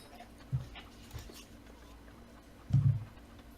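A puppy gives two short whimpering cries, soft and close, with a quiet pause between them against low background noise.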